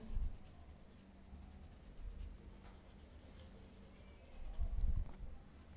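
A pen or stylus scratches steadily across an erasable kids' drawing card, a soft continuous rubbing with a few louder strokes, close up and with no voices.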